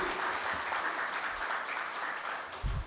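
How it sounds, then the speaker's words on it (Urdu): An audience claps at a book launch, with steady, dense applause filling the hall throughout, fairly loud and close, with no voices over it. "پلیز تالیاں بجائیں، اسپیشلی مرد، تالیاں بجائیے مرد پلیز"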